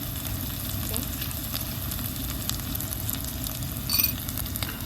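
Crushed shallots, garlic, cumin and turmeric fry steadily in a pan for a drumstick-leaf thoran, a continuous close sizzle with occasional stirring scrapes and no talk.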